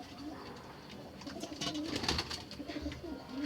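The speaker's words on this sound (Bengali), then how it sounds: "পায়রা বাচ্চাটা ভেতরে আছে" Pigeons cooing softly in a cage or pen, repeated low throaty coos that swell midway and continue steadily at close range, with faint rustling and no talking.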